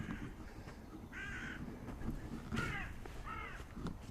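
Crows caw on a farm, several harsh calls coming at a moderate distance in short bursts over a low, steady outdoor rumble.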